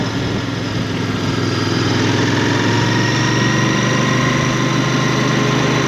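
A Royal Enfield Bear motorcycle engine runs steadily at a constant loud rumble with a low throb, and nobody speaks.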